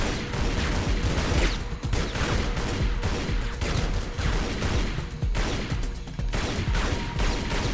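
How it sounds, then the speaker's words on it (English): Gunfire from enemies shooting at the player in the video game Tomb Raider: Legend, a dense, steady barrage of shots and mechanical clatter running loud and continuous throughout, with no voices. "who's shooting me?"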